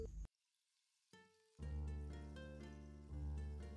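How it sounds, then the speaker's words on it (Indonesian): Marinated bacem chicken drops into a little hot oil and sizzles loudly, with a brief quiet gap followed by steady, close frying crackle. "Kemudian kita goreng ayam bacemnya di minyak yang sudah panas."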